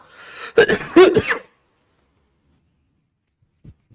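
A person coughs a few times in a quick burst, close and clear, followed by near silence with a faint tap.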